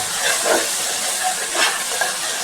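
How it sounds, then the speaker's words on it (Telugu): Tomato pieces cooking in oil in a pan for an eggplant, chana dal and coconut curry, a soft steady hissing sizzle with a few faint stirring swishes, close and alone. "ఈ టమాటా ముక్కలు కూడా నూనెలో బాగా మగ్గాలండి"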